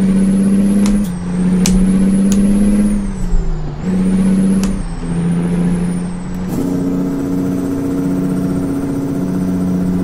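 A Kenworth K200 tandem truck hauling sand releases several sharp hissing air-brake bursts over its steady, loud idling engine hum, the pitch shifting as the truck slows.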